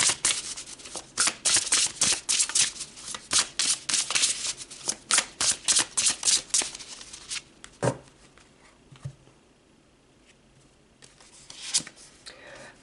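Tarot cards being shuffled, a rapid series of close, crisp riffling flutters and slaps in an uneven rhythm for several seconds, then a few sparse taps as the deck settles.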